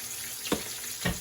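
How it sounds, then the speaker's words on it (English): Sloppy joe filling fries in a pan with a continuous close sizzle, broken by two brief stirring scrapes. "we just gonna fry these until everything is nice and brown"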